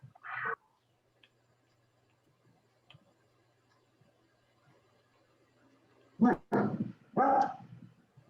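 A dog indoors gives a single sharp bark, then after a long quiet pause lets out a quick burst of three loud barks close to the microphone.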